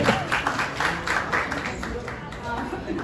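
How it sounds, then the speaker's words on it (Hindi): An audience at a Chhattisgarhi film award ceremony claps in a loose, moderate patter, with a host's voice talking over the applause. "जोरदार तालियां एक बार दोस्तों"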